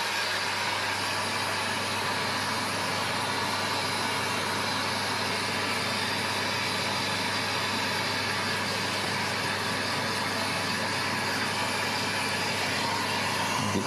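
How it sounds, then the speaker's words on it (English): A workshop exhaust fan runs steadily beside a fuel-rich torch flame during sterling silver melting, a constant broadband whoosh with a low hum, even and unbroken throughout. "Turn on the exhaust fan, be smart."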